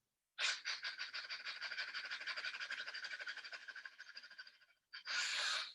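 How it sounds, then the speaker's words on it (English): Rapid, forceful rhythmic breaths of qigong fire breathing, a long run of quick close pants that slows and fades, then a brief pause and one strong long exhalation. "Fire breath."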